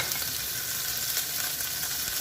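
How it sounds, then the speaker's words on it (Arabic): Onion and garlic fry in oil for a tuna pasta sauce, a dense, even close-up sizzle that holds steady throughout, with no talking. "راح ادبل البصل والثوم"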